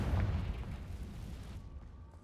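Confringo explosive spell blast in the video game Hogwarts Legacy, a single muffled boom with rumbling low-end that decays over about a second and a half, fairly quiet, no speech.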